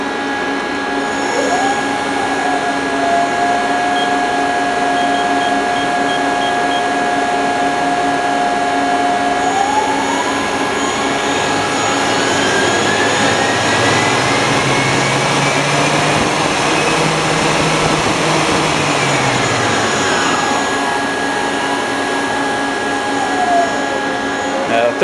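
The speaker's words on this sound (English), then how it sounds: "Spin up the chuck." A Mori Seiki AL-2 CNC lathe chuck spins up, a steady machine whir rising in pitch and settling into a sustained high hum, with broadband mechanical noise throughout; a voice can be heard over it.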